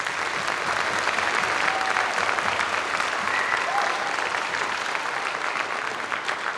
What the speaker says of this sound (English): please give a round of applause for every student that auditioned for this